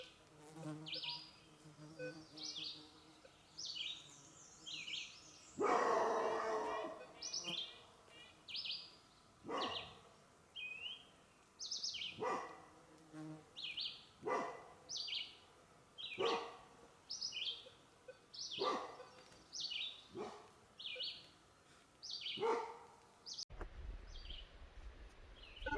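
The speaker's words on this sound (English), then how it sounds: "he's barking" A dog barks outdoors in a steady series of sharp barks spaced about a second apart, fairly distant, over a faint buzzing background with no talk.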